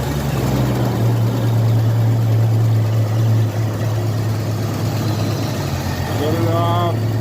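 Jeep Cherokee XJ engine idling steadily with a low, even hum and a constant drone close by, while people talk over it near the end.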